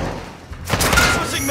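A smoke grenade in Call of Duty: Modern Warfare 2 on the Breenburg Hotel Hardpoint map lands with a dull thump and then a loud hissing burst, close, over background game noise.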